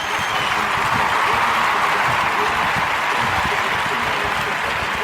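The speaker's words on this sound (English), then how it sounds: "Let's get some hand claps." A hand-claps sound effect plays as a dense, steady wash of many hands clapping, like crowd applause, sustained and fairly loud for several seconds.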